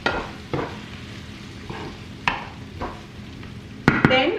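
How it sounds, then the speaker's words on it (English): Tomatoes being stirred with onions and ginger garlic paste in a pan for Bengali fish kalia, a low sizzle under intermittent spatula scrapes and knocks, ending in a few sharper clatters against the pan. "Mix the tomatoes with the onions and the ginger garlic paste."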